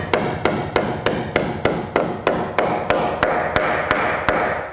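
Hammer driving a nail into a wooden fascia board on roof framing, a loud, close series of about fifteen sharp, evenly spaced blows with no talk.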